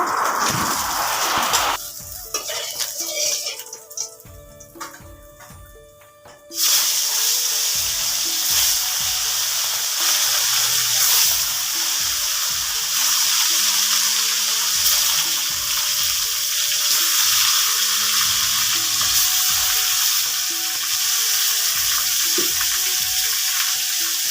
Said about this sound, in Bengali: এটা প্রথম মাছ ভাজলাম তারপরে আরও আছে তো সেগুলোকে আমি এক এক করে ভেজে নিব